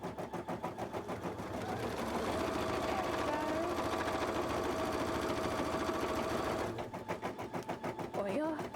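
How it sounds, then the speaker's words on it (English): Two sewing machines run together in a cosplay workshop, a dense steady mechanical whir with a rapid repetitive clunking pulse that holds for several seconds before stopping, while a voice talks over parts of it. "So both machines are going clunk at the same time."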